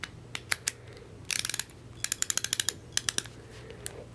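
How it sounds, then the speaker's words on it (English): Ratcheting screwdriver from Fuller Tools clicking in short rapid runs, fine crisp pawl ticks in bursts with brief pauses between, close-up and clear against quiet background. "the ratcheting mechanism is a lot finer and a lot smoother"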